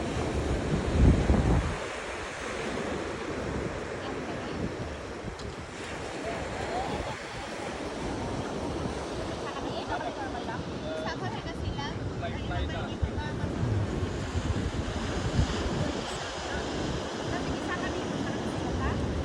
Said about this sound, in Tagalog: Ang lalaki ng alon, parang sobrang lalim nitong lugar na to.